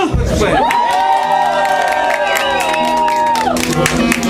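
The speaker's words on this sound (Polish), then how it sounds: "Brawa!" A crowd at an outdoor Kashubian folk concert cheers and claps, with whoops and shouts over a sustained held musical tone, loud and continuous throughout.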